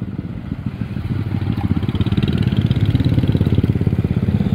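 A motorcycle engine putters close by at a railway crossing, its rapid rhythmic chugging growing slightly louder and steadier over a few seconds, with no voices.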